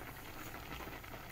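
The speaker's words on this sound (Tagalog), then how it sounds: "kumukulo na yung kanin natin" Steady bubbling and simmering from a pot of chicken adobo, a continuous soft hiss with faint popping, close by and uninterrupted.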